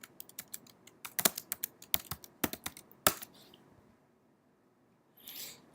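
Computer keyboard typing during code refactoring, a quick run of crisp key clicks for about three seconds, then quiet, with a brief soft rustle at the end.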